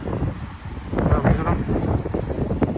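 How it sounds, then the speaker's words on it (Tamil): Strong cold wind blowing along a main road in London, buffeting the microphone with a loud rough rumble while someone talks over it. "செம காற்று அடிக்குது செம குளிர்"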